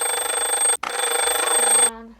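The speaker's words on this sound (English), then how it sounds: "the inspection timer went off." A Rubik's cube inspection timer goes off with a loud, continuous electronic beeping ring close by, briefly cutting out once, then ringing on before stopping abruptly, leaving a short fading tone.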